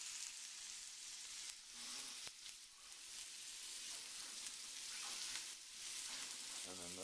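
Slider burgers with onions fry in a hot pan, a steady dense sizzle running throughout with brief crackles and a faint metallic tap, close and continuous with no talking.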